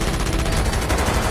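Dense, continuous burst of gunfire from a movie scene, rapid shots blurring into steady loud crackle throughout with no talk.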